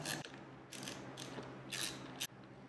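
A 5mm Allen key turning small screws that hold the ignition piece on an Orion 125XL street-legal pit bike during assembly: several close, bright ratcheting clicks in short bursts, with no talk.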